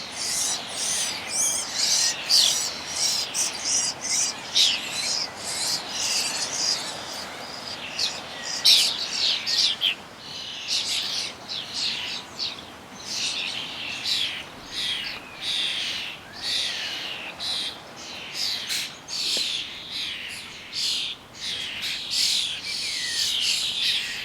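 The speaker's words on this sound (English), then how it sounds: "Starlings certainly are noisy and very aggressive too." Starlings crowding a garden bird feeder, a dense, continuous chorus of shrill chattering, whistles and squawks, close and busy for the whole stretch with no pauses.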